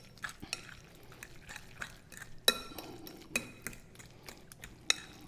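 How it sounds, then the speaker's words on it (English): Ingredients for fresh salmon cakes stirred together in a bowl, with a utensil clinking and scraping against the sides in several sharp, irregular knocks over soft wet mixing sounds, close and fairly quiet. "let's mix this together"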